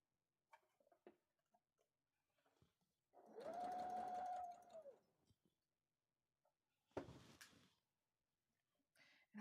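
A sewing machine stitches fabric for a dress, running in one smooth whirring burst of a couple of seconds. It is close but soft, with small taps and handling clicks before and after in a quiet room.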